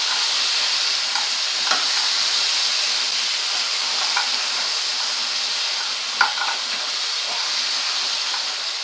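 Crab pieces frying in hot oil, a bright, continuous close sizzle and hiss with occasional sharp clicks and stirring knocks, steady throughout with no voices.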